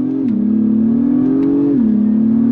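Acura MDX Type S turbocharged V6 pulling under throttle, a loud, steady engine drone heard from inside the cabin that steps down and rises in pitch through the gears.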